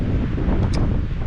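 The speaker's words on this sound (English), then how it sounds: "Wind gusts today are going to be getting up to over 50 kilometers per hour." Steady, heavy wind gusting over 50 km/h roars and buffets the microphone at a campsite on Bandit Lake in Algonquin, with a dense low rumble and no pauses over a short stretch.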